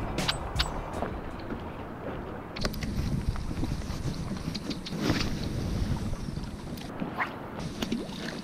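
Gusty, cold wind rumbles and buffets the microphone at a bass fishing spot, rising and falling in waves, with a few faint knocks and taps in between.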